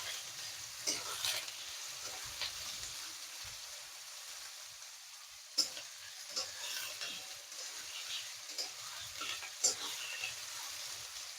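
Chopped carrots and beans fry in a pan with cumin, giving a soft, quiet sizzle. Occasional sharper scrapes and clinks from stirring break through the low, steady background.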